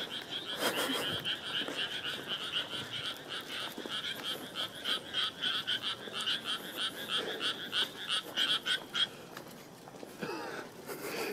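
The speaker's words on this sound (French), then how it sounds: "Ah, les grenouilles." Many frogs croak in rice paddies at night, a dense, steady chorus of rapid pulsing calls that continues throughout and thins briefly near the end.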